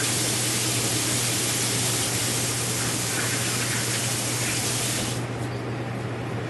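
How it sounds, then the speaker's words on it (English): Tap water runs as a steady, close, loud splashing hiss while hands are washed free of cod after marinating prep, continuing unbroken before shifting slightly near the end. "I'm going to wash my hands and get the fish off my hands."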